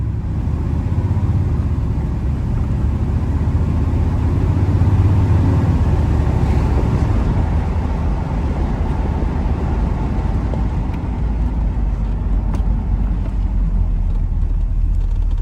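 Chevy car driving straight down a road to check for alignment pull, a steady loud low engine and road rumble heard from inside the cabin throughout, with no talking.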